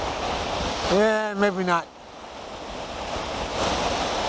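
Ocean waves wash onto a sandy shore at high tide, with a steady hiss of surf and wind noise on the microphone and someone briefly speaking over it.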